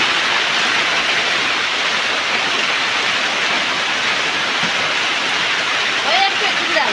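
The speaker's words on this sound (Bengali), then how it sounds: "বৃষ্টি পড়লো, সেই বৃষ্টি।" Evening rain falling steadily, a dense even hiss of drops on surfaces that holds constant throughout, close and moderately loud with no speech.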